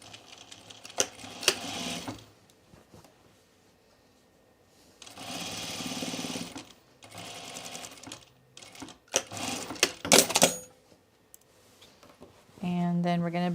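A sewing machine stitches a seam on a Sydney Dress in several bursts of fast whirring, separated by pauses. A person talks between the runs.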